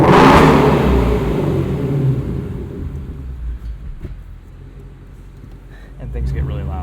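A 2016 Ford Mustang Shelby GT350 in normal exhaust mode gives a deep, loud rev that sinks into a lower rumble, then swells again near the end, heard up close.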